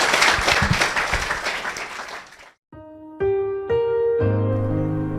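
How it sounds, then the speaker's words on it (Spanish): Church congregation applauding at a Wednesday evening Bible study, a dense roar of clapping that fades out and gives way to sustained organ or keyboard chords. "Denle un aplauso"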